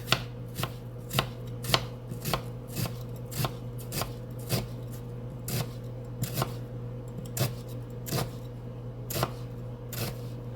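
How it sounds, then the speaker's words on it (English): Knife slicing onions on a cutting board at an unhurried pace, a steady run of sharp close taps about twice a second with no talk, over a constant low hum. "Just slice the onions."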